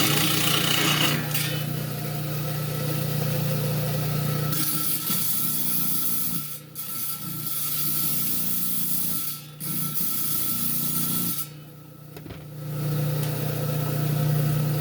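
A diamond saw, its blade recently dressed on an old grinding wheel, cuts common beach rocks with a steady close rasping grind over a constant motor hum, broken by a few short pauses as the cut eases.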